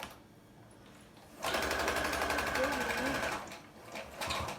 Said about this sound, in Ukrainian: І, мабуть, тут я не дострочу його. Боюся, щоб у мене голка не поламалась.